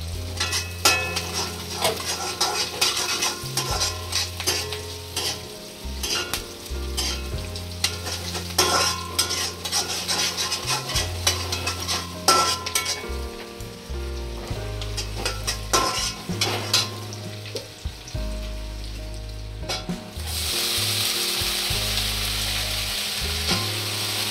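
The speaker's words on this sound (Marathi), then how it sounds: "लसूण चांगला भाजून द्यायचा आहे। एक कांदा कापून ठेवला होता गोल, तो पण टाकून घेऊया।" Garlic, sliced onion rings and chopped green chillies fry in a pan for chicken schezwan fried rice, a steady close sizzle with stirring scrapes and utensil clinks throughout, growing denser near the end.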